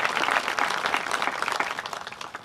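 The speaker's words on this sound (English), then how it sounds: "So if you want to give them all a round of applause for being here today" A crowd applauds at a high school athletic field groundbreaking ceremony, many hands clapping in a dense, even patter that starts full and slowly tapers off.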